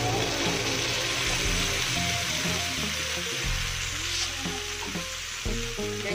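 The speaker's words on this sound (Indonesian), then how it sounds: "Ini bumbunya sudah harum, kemudian kita masukkan labu jipangnya." Chayote going into hot, fragrant spice paste in a pan, a loud continuous sizzle and frying hiss with stirring clatter throughout.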